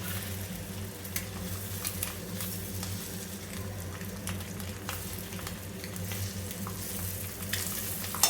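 Eggs for egg biryani fry in a pan with a steady, dense sizzle and occasional stirring scrapes, continuous and close throughout with no talking.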